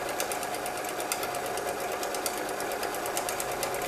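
A sewing machine stitching a spiral quilt runs close and fast, a continuous even rattle of needle strokes with no pauses.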